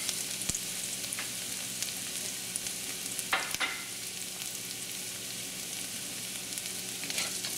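Garlic sizzles steadily in a pan for adobong sitaw, a dense, constant crackle with a few louder bursts and utensil scrapes near the middle.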